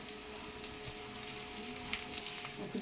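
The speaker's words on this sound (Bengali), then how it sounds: "দারচিনি ছোটো এলাচ তেজপাতা সমস্ত যেগুলো ফোড়নগুলো দেখিয়েছিলাম তোমাদের সেগুলো একে একে সব দিয়ে দিচ্ছি" Whole cinnamon, green cardamom and bay leaf crackle and sizzle steadily in hot tempering oil for khichuri, a continuous close frying hiss with small pops and no voices.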